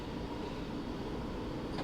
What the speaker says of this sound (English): we've got a Colas 66 pulling past, which is always cool